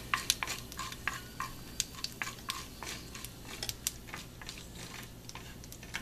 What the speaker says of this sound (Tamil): இது கடுகு நல்லா பொரியுது இப்போ